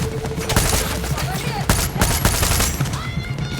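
Rapid bursts of video game gunfire, with automatic fire and scattered single shots, crackle steadily through a chaotic firefight in an abandoned lawless city, while someone talks over the shooting.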